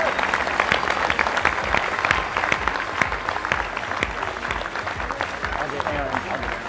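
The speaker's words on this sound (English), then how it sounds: "So please give them a big round of applause." Keynote audience at a developer conference applauding, a dense, close run of sharp hand claps that stays strong and even throughout.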